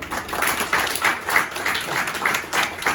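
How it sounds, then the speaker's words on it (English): Students in a classroom clap for a classmate who answered correctly, a brief burst of scattered hand claps at moderate loudness, fairly steady across a few seconds. "Clap for you."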